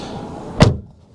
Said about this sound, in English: a weird sound when that closes that door.